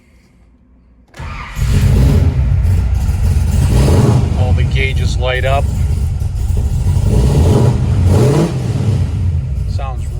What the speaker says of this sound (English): All right, so I'll get this thing fired up for you guys to hear it.